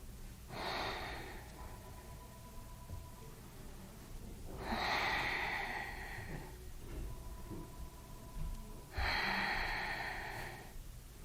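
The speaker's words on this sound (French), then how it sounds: "J'active ensuite la respiration abdominale." Slow abdominal breathing during a hip-focused yoga session, with three long, airy breaths spaced about four seconds apart, close and moderately loud, with no talking.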